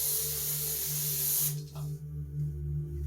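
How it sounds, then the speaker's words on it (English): A Lysol aerosol disinfectant is sprayed over a bed mattress: one continuous, close, bright hiss lasting about a second and a half, then it stops and only quiet room noise remains. "I take Lysol and I always spray the mattress."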